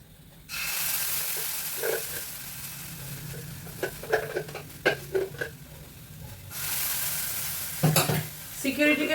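Biuli dal stirred and frying in a pan makes a loud, steady sizzle that starts abruptly, with repeated scraping and clanking strokes of a spoon against the pan, swelling again toward the end.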